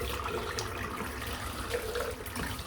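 Tap water runs steadily into a sink while a synthetic shaving brush is rinsed out, giving a continuous close splashing rush with no talking.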